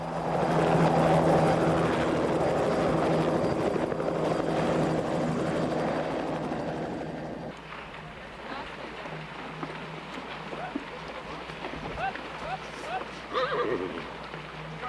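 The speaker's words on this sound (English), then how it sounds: "is whisked away to the hospital in our helicopter" A rescue helicopter drones steadily overhead, loud at first and then easing off, while horses whinny and hooves clip-clop nearby amid outdoor noise at a herd and wagon drive by a creek.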